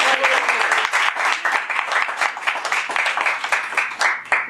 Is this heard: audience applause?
yes